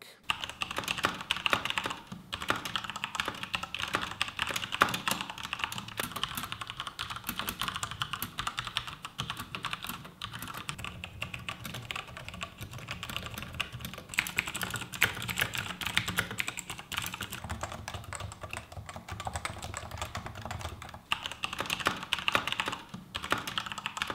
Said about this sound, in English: this is what the switches sound like